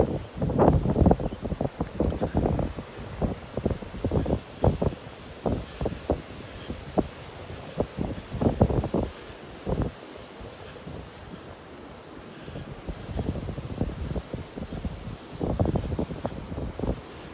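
Wind gusts across a beach in North Naples, Florida, a continuous buffeting rumble striking the microphone in irregular bursts, with faint surf behind it and no talking.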